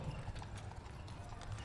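The hooves of a dark brown-black horse clip-clop steadily along a parade route beside the grand marshal. The beats are faint and fairly distant under a constant crowd and outdoor hum.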